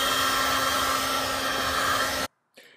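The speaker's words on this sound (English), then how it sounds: "we're using a heat gun or a dryer to warm the sticker up" A hair dryer runs steadily at close range, blowing hot air onto a decal on a new car, a loud even whoosh with a motor hum that cuts off abruptly near the end, followed by a faint brief rustle.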